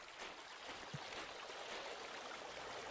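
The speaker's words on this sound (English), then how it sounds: "So we're gonna make some noise splashing in the water." Water splashing in Cabela's Big Game Hunter, a hunting video game, heard as a steady near wash of sloshing, trickling water that runs the whole stretch with no speech over it.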